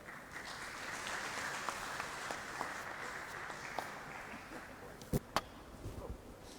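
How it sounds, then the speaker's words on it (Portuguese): An audience at a civil society organizations congress applauds a panel with sustained, even clapping. A few sharp, close claps stand out near the end. "Queria pedir mais uma salva de palmas para o nosso painel."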